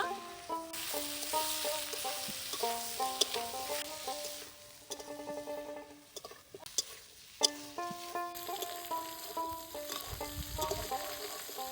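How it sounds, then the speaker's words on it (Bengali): Cut cauliflower fries in a pan with a soft, steady sizzle, faint and partly masked beneath louder melodic background music with tonal notes throughout. "দুই মিনিট সময় ধরে ভেজে নিব"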